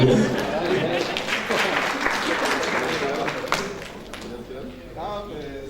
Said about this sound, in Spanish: ¿Compañera le quiere dar un aplauso a la compañera?